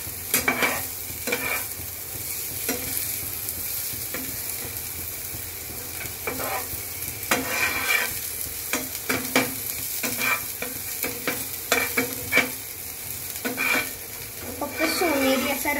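Chopped onion stirred and fried in a pan for an egg bread omelette, a steady sizzle broken by repeated scraping and clinking spoon strokes, close and fairly loud with no talk.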